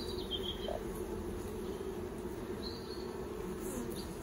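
Honey bees buzzing around an open hive during a September inspection, a steady low drone from many insects close by, continuous and even, with a few faint high chirps in the background.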